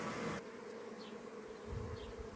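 Honey bees droning around a hive during breeding-colony work, a steady close buzz with individual insects passing, no talking.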